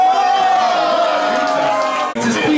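A crowd cheers and whoops through a steady roar at an antweight robot combat event, under an excited commentator's voice, with a brief break near the end.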